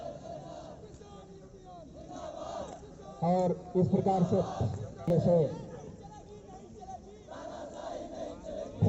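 Crowd of rioters shouting and chanting in bursts during a police riot-control drill by a PAC battalion in Mirzapur, with someone narrating over the noise throughout.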